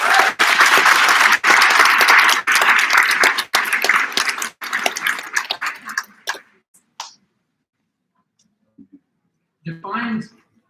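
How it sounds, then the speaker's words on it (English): An audience at a BGSU BFA exhibition opening and awards ceremony gives a warm round of clapping that fades out after about five seconds, followed by near silence and then a brief bit of talk. "A round of applause right off the bat."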